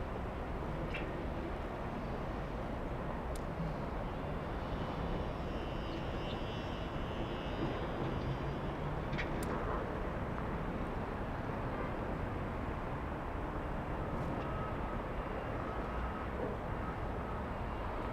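A Lufthansa Boeing 747 jet comes in to land at Los Angeles airport, its engines giving a steady, continuous broadband roar that holds even throughout, with faint higher whines drifting above and no voices.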